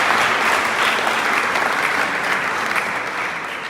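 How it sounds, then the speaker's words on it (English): Audience applause at a mayoral inauguration ceremony in the Royal Borough of Greenwich, London: dense, steady clapping from a sizeable crowd that holds strong throughout and eases off slightly toward the end. "I think that deserves a round of applause"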